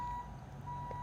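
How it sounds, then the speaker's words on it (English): A vehicle's backup beeper sounds in a faint steady high tone, with a brief gap in the middle, over a low background rumble. "since they got the backup buzzer there"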